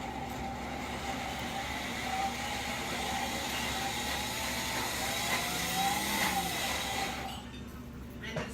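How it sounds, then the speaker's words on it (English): A loud whirring blender motor runs steadily for several seconds blending butternut squash sauce, its pitch wavering slightly, then cuts off abruptly near the end. "I'm just going to put this onto the blender"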